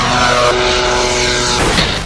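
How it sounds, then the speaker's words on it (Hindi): An Iranian Ababil 3 drone takes off from a runway, its propeller engine giving a loud, steady drone that holds for about two seconds before a rougher burst near the end, with no talk over it. "पहला ड्रोन है अबाबेल 3 जो रनवे से टेक ऑफ करता है।"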